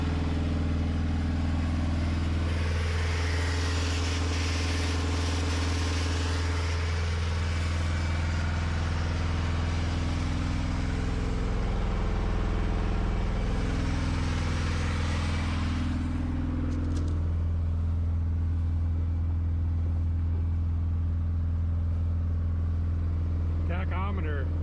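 An engine idles steadily on an undersized fuel pump, a continuous low rumble running close and loud with a slight wavering throughout, alone without speech.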